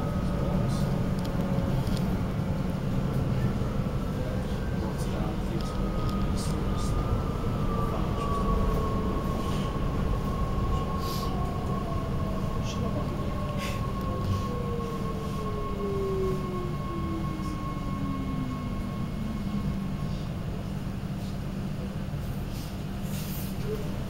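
A Sprinter train rolls along the rails from Amsterdam Centraal toward Schiphol, heard from inside as a steady rumble and rushing hiss with faint tonal whines sliding in pitch, continuous and fairly quiet.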